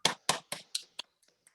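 A few sharp hand claps at a church prayer gathering, about five quick claps in a row that thin out and fade to scattered taps within a second and a half.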